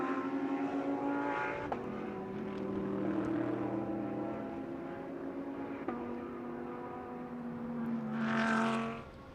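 GT race cars, including a Wright Motorsports Porsche, race at Road America, with engines droning at shifting pitch, a couple of sharp gear-change steps, and a nearer car swelling past at the end.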